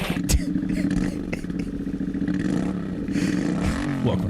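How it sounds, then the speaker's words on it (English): A motorcycle engine revs repeatedly, rising and falling in pitch, loud and close, with people talking over it. "I wonder if people could submit their audio to be the revving on the Quick Shifter"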